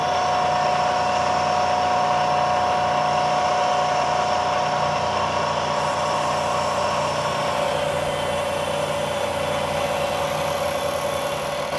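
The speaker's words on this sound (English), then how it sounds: "I'm going to mill a channel out of the middle of it." A milling machine cuts a rectangular channel down the middle of a block of model-making material, making a steady, even drone with a constant hum that runs on without a break throughout.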